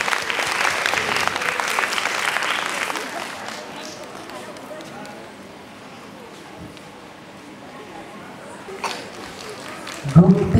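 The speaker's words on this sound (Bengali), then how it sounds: "সবাই কি হাত দেখা একটু তালি দেই আমরা" Audience at a dance award ceremony clapping in a dense burst of applause that fades to a softer murmur, with a voice and sharp noises near the end.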